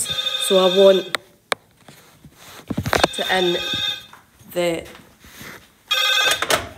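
A telephone rings during a maths lesson on solving trig equations, its electronic ringing tone sounding in repeated bursts near the microphone while a teacher talks between and over the rings.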